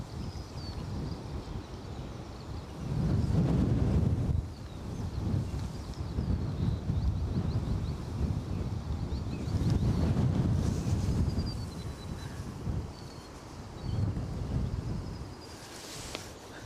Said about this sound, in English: the wind is getting stronger